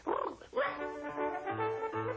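A cartoon dog in a 1988 Garfield birthday TV special lets out a run of yapping barks that slide into whimpering, drawn-out tones, all voiced by a performer imitating a dog, loud and close.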